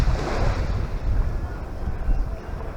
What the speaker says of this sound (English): This beach is virtually empty.